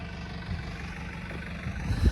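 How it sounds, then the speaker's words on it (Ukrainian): A tractor rattles and drones in a field during harrowing, a steady low engine rumble with rough mechanical clatter that swells louder near the end. "Трактор в полі деренчить"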